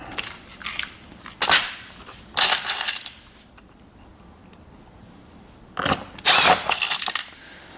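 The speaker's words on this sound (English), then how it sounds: "So let's screw this together." Screws being driven into a plastic tool grid organizer for polisher drawers, heard as a few separate short bursts of grinding and crunching with quiet pauses between, close up and with no talking.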